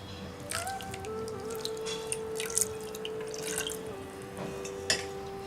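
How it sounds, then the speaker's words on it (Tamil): Water from a tumbler poured onto jaggery in a cooking pot for foxtail millet payasam, a soft steady liquid trickle with light drips and splashes running throughout at close range, no talking. "இதுக்கு நம்ம 1 டம்ளர் தண்ணி ஊற்றிக்கலாம்."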